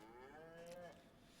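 Cows in the video game DayZ give a single drawn-out moo that falls in pitch, clear and moderately close over a faint background hum, with no one speaking.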